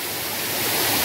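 Navlai waterfall roars as a steady, dense wash of falling water heard from close by, rising slightly in loudness over a single second.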